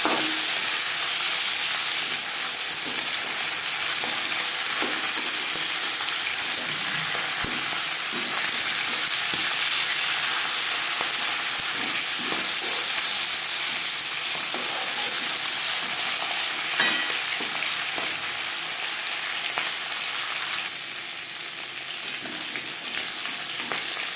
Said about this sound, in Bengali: একটা সাইড ভাজা হয়ে গেলে